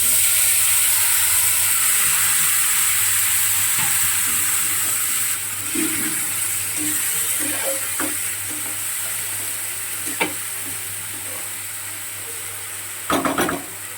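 Constant hissing sizzle of puti fish frying in hot oil, loud at first and easing slightly, with occasional clinks of a utensil.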